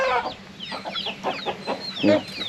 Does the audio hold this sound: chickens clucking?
yes